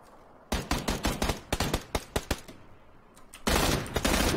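Gunfire in PlayerUnknown's Battlegrounds: a burst of sharp, loud shots in an uneven rhythm, roughly a dozen cracks, then a pause and a dense sustained volley at the end, with no talk over it.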